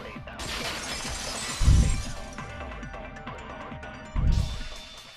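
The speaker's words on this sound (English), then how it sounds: "If it wasn't the window, then what broke to make that sound? A vase." In the game Danganronpa 2, a vase shatters in a loud crash followed by scattering, tinkling shards, and then a second heavy crash arrives a few seconds later, all without speech.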